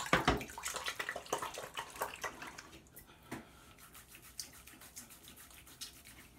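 Bloom water is poured and splashed out of a shaving bowl before lathering K-Shave Worx Aries soap, giving a few close, quick splashes that taper into faint drips and trickles.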